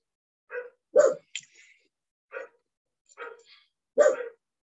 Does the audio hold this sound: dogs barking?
yes